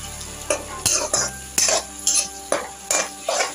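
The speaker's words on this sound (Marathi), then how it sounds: "हिरवा मसाला कांद्याबरोबर चांगला परतवून घेऊया।" Green masala and onions are stirred in a pan with a metal spoon, a rhythmic series of about eight scraping strokes over a faint sizzle.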